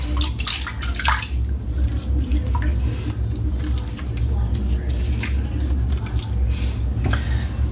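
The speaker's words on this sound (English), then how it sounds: "A little dip of hands in the water there, a little bit of water in the face" Water splashing as hands dip into a basin during a wet shave, with soft squishy wet sounds and small drips close to the microphone over steady low background noise.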